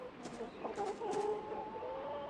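Hens cluck softly in the Dreadfields farm video game, a few short clucks and chirps over a steady low background hum, fairly faint and distant.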